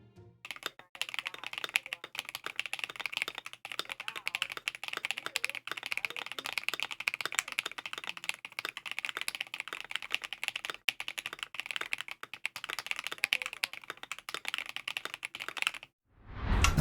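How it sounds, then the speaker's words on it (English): Fingers tap and clatter on a metal keyboard case fitted with a tape mod and PE foam, making a dense, continuous run of small clicks and light pings up close with no talking. "that tapping that I'm doing right there was to demonstrate how there is a little bit of that ping from the case"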